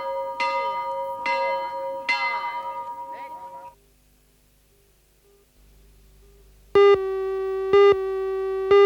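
An old primary school bell, rung every school day since 1860, clangs three loud strikes with ringing, wavering overtones. Near silence follows, then a few short, steady electronic tones.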